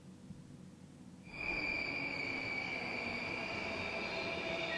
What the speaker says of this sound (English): The train clearly slammed on the brakes.